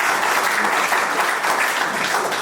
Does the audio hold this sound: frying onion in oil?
no